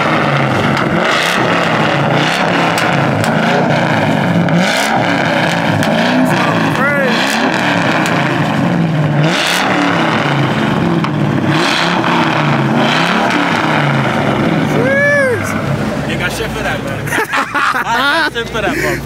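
Car engines rev and roar repeatedly nearby at a car meet with trucks, amid crowd chatter and voices, with rising and falling pitch as throttles are blipped.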